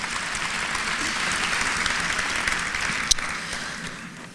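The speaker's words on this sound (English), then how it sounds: "Let's give her a round of applause" Applause from the audience at a Hall of Fame induction gala, a dense steady wash of clapping held at an even level throughout, with no speech over it.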